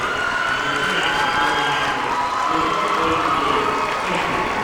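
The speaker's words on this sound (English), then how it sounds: "This crowd has been going nuts here since they started warming up." Dense, continuous crowd noise fills a gym at the 1994 IHSA boys volleyball championship between Oak Lawn and Downers Grove, with steady cheering, clapping and shouting throughout.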